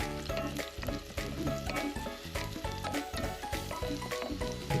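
Chicken and onion for tinola fry in a pan and are stirred repeatedly, giving a close, continuous sizzle broken by a quick rhythmic run of scraping strokes.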